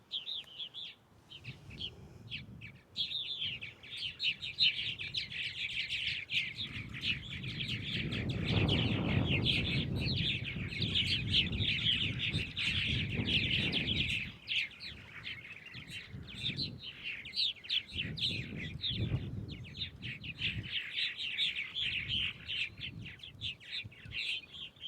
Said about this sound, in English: The openings for a purple martin house are very small, so the other big bad birds can't get into them.